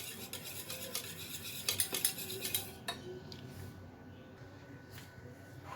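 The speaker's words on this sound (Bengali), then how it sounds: "এটা দিয়ে ভালো মতন দইটাকে ফাটিয়ে নিতে হবে" A spoon whisks and scrapes yogurt in a bowl, with quick, faint clinking strokes that come in bursts before trailing off into quiet room noise.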